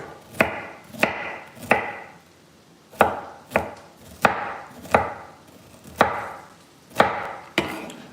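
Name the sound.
chopping broccoli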